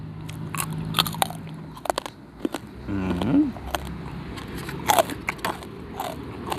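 Crunchy biting and wet chewing of fresh shrimp papaya salad eaten by hand, close and loud, with irregular crisp crunches and smacking mastication throughout.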